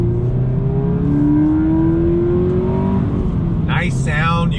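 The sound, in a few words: 2020 Subaru BRZ tS engine intake and exhaust sound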